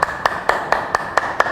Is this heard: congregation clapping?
yes